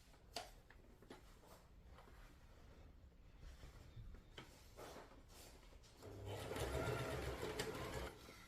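A sewing machine whirs into a steady, rapid stitching run through fabric with interfacing toward the end, after a stretch of quiet handling and soft knocks.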